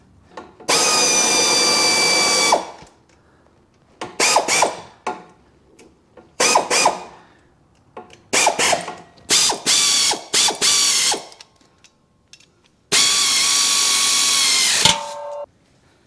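A ratchet drives a bolt on the one-piece driveshaft of an International 4700 dump truck, loud close clicking in bursts: a long run, several short strokes, then another long run, with quiet gaps between.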